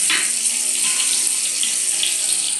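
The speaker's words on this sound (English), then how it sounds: "I'm going to give the leeks a little rinse" Running tap water pours steadily into a kitchen sink as leeks are rinsed, a continuous close splashing hiss with no pauses and no voices.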